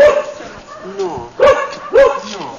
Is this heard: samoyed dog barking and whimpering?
yes